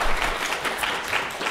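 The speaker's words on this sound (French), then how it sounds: "on peut l'applaudir" A conference audience gives brief applause, a soft, dense patter of clapping that sounds somewhat distant and stays steady for about a second and a half.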